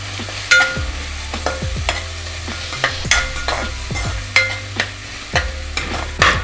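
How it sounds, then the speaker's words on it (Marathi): Ginger, garlic, chili and coriander paste fries in a pan for pav bhaji, with an even sizzle and regular scraping strokes of a spoon roughly every half second, close and clear with no speech. "आता आपले अद्रक लसूण पेस्ट 2 मिनिटं व्यवस्थित फ्राय झालेली"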